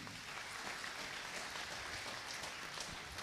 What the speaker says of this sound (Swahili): Wacheni tuwapigie makofi